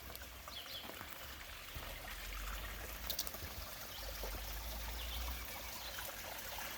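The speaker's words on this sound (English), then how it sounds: "I hope you're able to hear the sounds of the creek" A small, shallow creek trickles and babbles steadily at low volume outdoors, with a faint bird call in the background and no speech.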